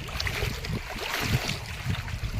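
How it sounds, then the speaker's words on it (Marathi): Strong wind buffets the microphone beside a large dam during a fishing outing, a steady low roaring rumble with gusty swells and no talk. "वारा पण खूप सुटलाय."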